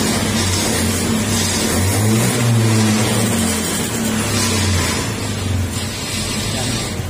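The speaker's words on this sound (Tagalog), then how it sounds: "Mas smooth na uli yung RPM ng motor natin." A Honda Beat FI scooter engine idles steadily and revs smoothly, a close, continuous mid-pitched putter that swells briefly in the middle before settling back.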